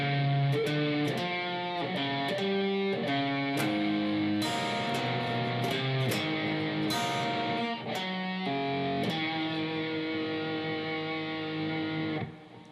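An electric guitar plays part 4 of a song's riff slowly, with a run of distinct plucked notes and bends ringing on continuously, close and clear, with no talking.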